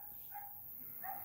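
A young female Laika dog gives a couple of faint, distant barks, two short yelps set apart in a quiet outdoor setting.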